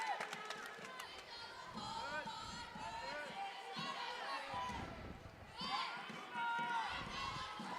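Cheerleaders cheer from across a high school wrestling tournament gym, with high chanting voices rising over crowd chatter, squeaks and bouncing, while a commentator talks up close.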